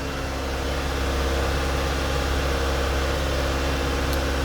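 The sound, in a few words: 1987 Honda CRX DX engine idling with choke valve in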